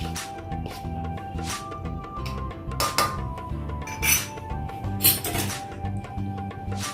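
Gram flour and ragi flour being stirred together in a bowl, a soft scraping broken by several sharp clinks of a utensil against the bowl, close by, with music playing underneath.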